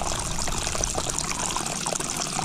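Spring water pours continuously from the overflow pipe of a gravity-fed watering tank, a steady, moderately faint splashing trickle with no pause and no talking.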